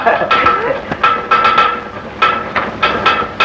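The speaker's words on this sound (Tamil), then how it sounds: "மியூசிக்கல் ஃபேனா ஜனத்தரங்க வாசிக்குதே" A rattling ceiling fan in a room sends out quick bursts of bright metallic clinks, ringing like tuned jalatarangam bowls, in an irregular patter throughout.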